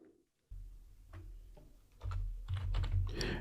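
Computer keyboard keys clack in short irregular bursts, faint at first and then growing denser and louder toward the end, with no voices over them.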